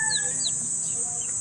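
Newly hatched chicken chicks peep in a thin, high chorus of short chirps and sliding tweets, several overlapping at close range over a steady high background hiss, with soft clucks low underneath.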